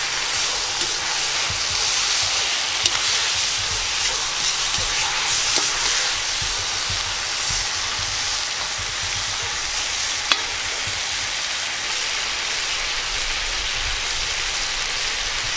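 Chicken legs being stirred with vegetables and chili in a frying pan, a steady close sizzle with soft scraping and stirring throughout, no talking.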